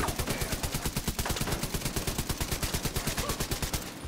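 Heavy automatic gunfire in The Division 2 during a stronghold raid, a rapid, evenly spaced stream of loud shots hammering without pause for a few seconds, close and dominant.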